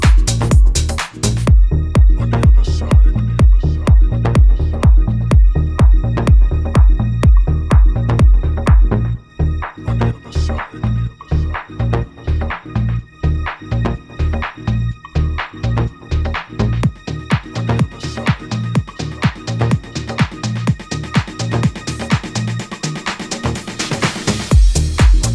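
Electronic dance track moving from a breakdown toward the drop, with a steady pulsing beat, filter sweeps and rising tension as the low end thins out near the end, loud and continuous with no voices.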